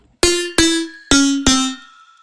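Layered synth plucks play together in four loud, sharply attacked notes, each chord ringing briefly before the next, with the last one fading out slowly.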